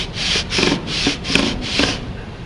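Guitar frets being levelled with a sanding beam: five even back-and-forth rubbing strokes, close and steady, with a gritty, abrasive scrape on each pass and no voices.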